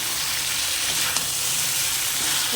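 Malabar spinach stalks and spices frying slowly in a pan over low heat give a steady, soft sizzle with faint stirring, near and alone throughout.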